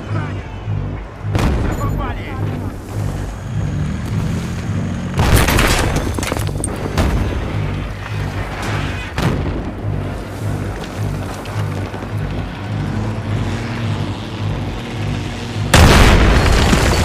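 T-90 tank cannon fire and explosions in the Battlefield 3 video game, loud booming blasts over a constant rumble of battle, with heavy hits near the start, middle and end.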